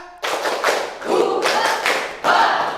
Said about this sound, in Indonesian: tepuk 3, tepuk 1, tepuk 2, tepuk 3, tepuk 1, 2, 3